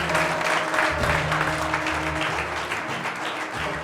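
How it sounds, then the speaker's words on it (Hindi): Sustained applause from a church congregation, steady and fairly loud throughout, with a low hum of music or instruments running underneath. "क्यों ना यीशु मसीह के लिए ताली हो जाए"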